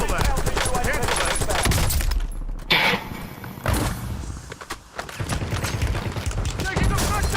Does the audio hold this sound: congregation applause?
no